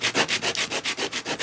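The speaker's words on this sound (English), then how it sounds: "sanding on sandpaper" A wooden dulcimer bridge is rubbed back and forth on sandpaper in about nine even, rhythmic strokes, a close, dry scratchy rasp with no talking.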